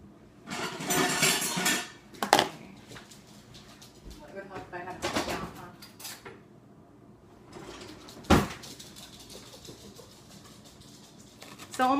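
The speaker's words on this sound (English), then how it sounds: "I'm just taking the spoon and I'm scraping the guts out" A spoon scraping the seeds and stringy insides out of a halved raw spaghetti squash, giving several short scraping bursts with quiet gaps, close by and moderately loud, with a voice talking at times.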